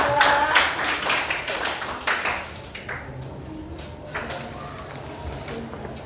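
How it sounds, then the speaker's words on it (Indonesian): Classroom applause for a student group during a teacher training presentation, scattered hand claps that are strongest at the start, ease off, then pick up briefly again over quiet room noise. "tepuk tangan untuk kelompok 2"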